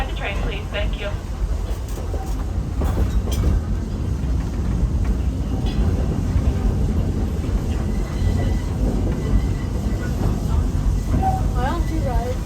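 A Walt Disney World Railroad train ride rumbles steadily throughout, with the low hum of the moving train cars close by as people chat over it and a few brief whistle-like tones appear.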